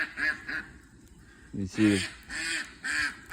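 Female ducks quack loudly in a backyard flock, with a few harsh, repeated calls close by and a brief burst of honking quacks in the middle, while someone speaks briefly over them.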